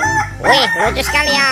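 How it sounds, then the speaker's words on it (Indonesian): Toy rooster plays a crowing cock-a-doodle-doo, loud and close, while a person speaks excitedly over it. "ini ada ayam berkokok"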